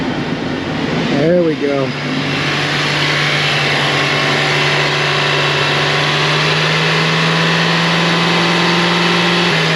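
A car engine in an auto repair shop cranks briefly and catches, then settles into a steady, loud idle that drones on close by, while someone speaks a few words near the start.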